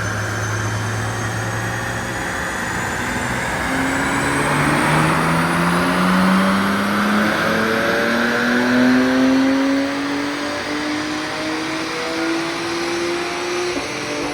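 A tuned 2024 BMW M2 CS engine pulls hard on a dyno, its pitch climbing steadily over a sustained run under a loud broadband roar, heard up close with no talking.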